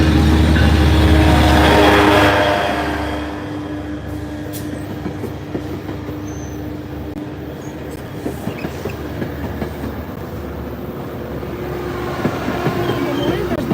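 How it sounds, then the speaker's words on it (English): A train passes nearby, with a loud rumbling swell at first that settles into a steady rolling clatter of wheels on track. Speech is faintly audible beneath it. "Hold on, the train is passing"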